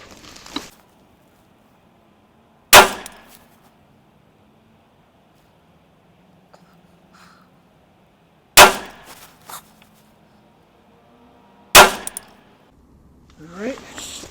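Three loud, sharp Ruger SFAR rifle shots with cheap AAC 150-grain FMJ ammunition, fired outdoors at a 100-yard target, spaced several seconds apart with quiet between them.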